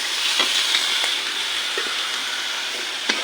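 Stinging catfish frying in a cooked-down spice paste: a constant close sizzle and hiss with faint scattered pops and stirring taps, no voices.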